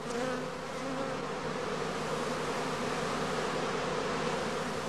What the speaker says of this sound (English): the prime swarms have to be caught directly on leaving the skep.